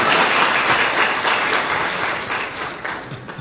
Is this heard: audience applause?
yes